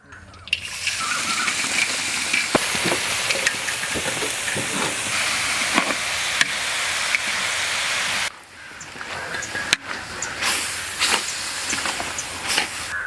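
Chopped onions fry in coconut oil over an outdoor village cooking fire, giving a loud, steady, steamy sizzle and hiss. The sound breaks off briefly, then resumes with crackles.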